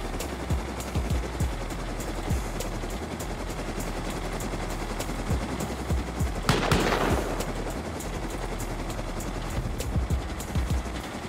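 Video game gunfire crackles in scattered bursts against a constant background rumble, with one denser, louder volley near the middle and no voices.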